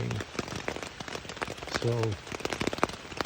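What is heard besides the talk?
rain falling on a tent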